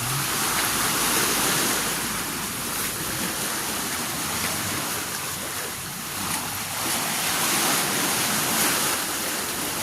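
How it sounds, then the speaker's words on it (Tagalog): Loud, steady roar of waves crashing and washing near a sea cave on a rocky shore, a continuous broadband surge with slight swells in intensity and no voices. "Maingay lang guys sa alon."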